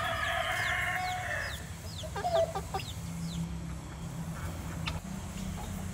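Bantam and free-range village chickens on a poultry farm, with a run of loud clucks and squawks at the start, then several sharp crowing calls and scattered clucks over a steady low farmyard hum.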